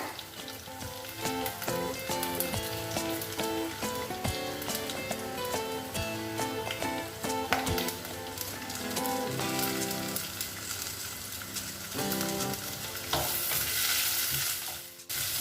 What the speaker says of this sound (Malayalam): ഇതിലോട്ട് നമുക്ക് ഒരു സവോള അരിഞ്ഞത് ഇട്ട് കൊടുക്കാം.